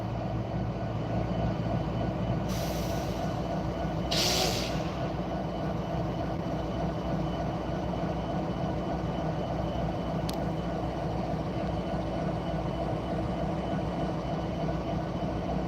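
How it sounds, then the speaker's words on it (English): A steady, loud low rumble of an idling freight train engine at a railroad crossing fills the clip without letup, with a couple of brief hissing bursts early on. "I wonder if he's getting that train to move."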